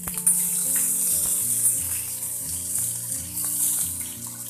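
Tomatoes frying in hot oil in a kadhai give a steady, close sizzle for a few seconds, with light stirring clatter and no talking.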